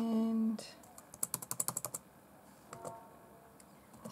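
Numbers are typed on a computer keyboard: a quick burst of about eight crisp key clicks, followed by a few scattered single clicks, close and quiet after a brief tone at the start.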